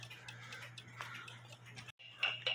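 A musical chalet cuckoo clock ticks in a steady, quiet, close rhythm over a low hum, with one brief dropout near the end.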